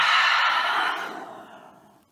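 One long, slow breath out during a yoga forward bend, close and airy, strong at first and then fading to quiet over about two seconds, with no talking.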